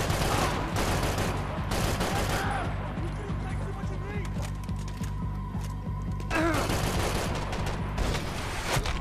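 Gunfire from the video game Max Payne 3 runs through the whole stretch as dense, loud bursts of game shots over a steady soundtrack bed, with brief quieter gaps between volleys.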